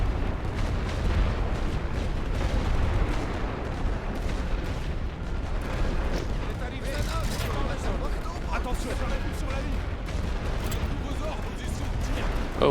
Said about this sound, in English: I'm going to keep fire here with my light artillery, just to make sure that they don't get any cheap shots off at me